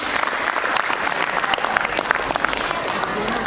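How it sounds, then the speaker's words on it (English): Parents at a children's school class presentation clap and applaud steadily throughout, a dense, even patter of many hands filling the room with no pauses. "Louder claps, parents."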